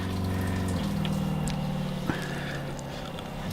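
A portable water system's pump in a van runs with a steady mechanical hum and whir under the rush of flowing water, its pitch dropping and settling midway, with one sharp click near the end.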